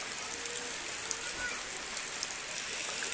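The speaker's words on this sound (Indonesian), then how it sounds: "Hujan tidak reda-reda." Steady heavy rain falling over flooded Martapura town in South Kalimantan, a dense continuous hiss of drops on surfaces and water, fairly loud and even throughout, with no talking.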